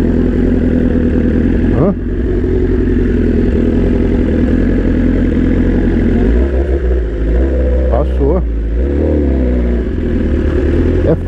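BMW S1000RR M Carbon motorcycle riding through traffic in a tunnel, a loud continuous engine drone with rising revs and booming echoes, while a rider speaks briefly over it.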